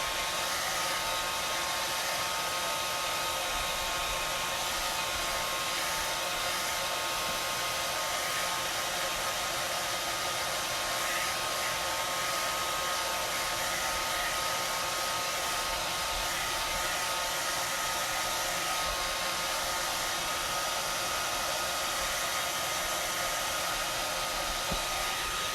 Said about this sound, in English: this is just a blow dryer, on low, on cool heat